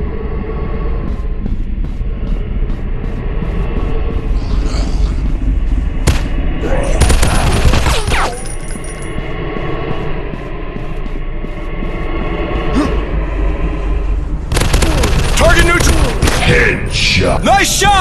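Rapid bursts of automatic gunfire and booms from the zombie shooter game Zombies Fire Strike, set in an industrial war level, loud and dense with a steady rumble underneath and two heavy volleys.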